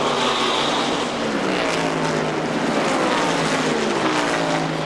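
NASCAR stock cars racing at Michigan in 1993 make a loud, constant roar of engines at full speed, with overlapping tones from several cars that rise and fall as they pass and no talk over them.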